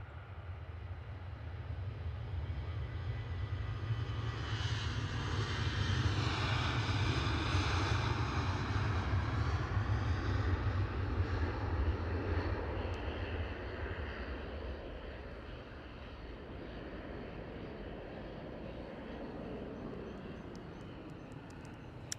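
Airliners at Edinburgh Airport, a Ryanair jet on pushback and a Finnair jet preparing to depart, give a steady loud low engine roar that swells midway, then eases to a lower continuous drone.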